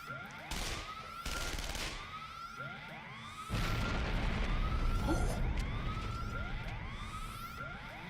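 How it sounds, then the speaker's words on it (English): Gunfire and explosions from the visual novel game Shuten Order, heard over a wailing siren: several sharp bangs in the first few seconds, then a heavy boom, with the siren's sweeping rise and fall repeating throughout. "Was that a gunshot?"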